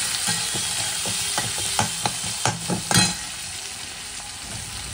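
Medium-size onions frying in a pan for a home lunch dish, a steady sizzle broken by repeated scraping and knocking stirs that fade toward a quieter, even frying hiss.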